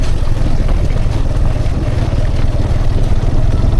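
Motorbike engine droning steadily on a dirt and sand track on a mountain road between Hunza and Chilas, a loud continuous low rumble with wind noise and no pauses throughout.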